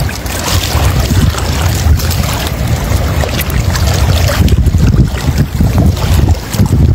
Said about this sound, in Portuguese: Esse é o vento que a gente teme, ó.